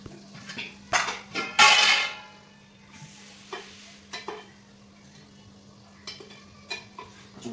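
Plates and dishes clink and clatter as a home-cooked meal of fried eggplant, fried plantain, bitter gourd and dal is served; a loud burst of knocks early on gives way to sparser taps over a faint steady hum.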